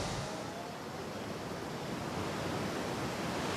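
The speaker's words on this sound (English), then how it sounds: "That's what I call a waterfall. Listen to that roar." A loud, steady roar of a nearby waterfall on Hawaii's Hana Coast fills the air, constant and broadband, with no voices.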